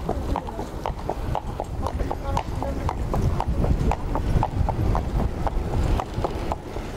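Horses at a harness racing track, their hooves clip-clopping in a quick steady trot rhythm, moderately close and continuous, with light wind noise in the background.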